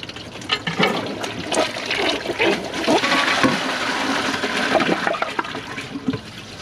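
A Kohler Wellworth Class 5 toilet with a Portrait Lite tank flushes a second time on a clog, a steady close rush and swirl of water that fills the whole stretch without voices.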